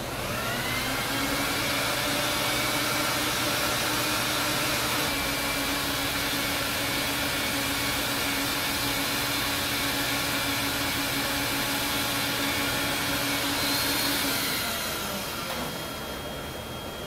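A loud, continuous vacuum whine drones close by for the whole stretch as it extracts cleaning solution from a rug, holding a steady pitch before easing slightly near the end.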